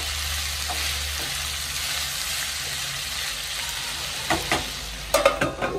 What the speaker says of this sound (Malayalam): ഇടയ്ക്കിടയ്ക്ക് ഒന്ന് ഇളക്കി കൊടുക്കാം.